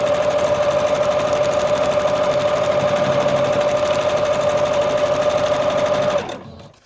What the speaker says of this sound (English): We're going to do some straight stitch as well and try to get all those bits sewn over.